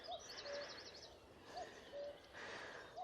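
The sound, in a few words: cuckoo calling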